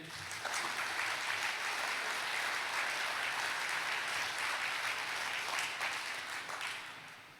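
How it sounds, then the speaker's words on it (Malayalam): A congregation at a worship gathering led by a priest claps together in sustained, dense applause that holds steady for several seconds before tapering off at the end. "ഒന്ന് കൈയുയർത്തി കൈയടിച്ചേ."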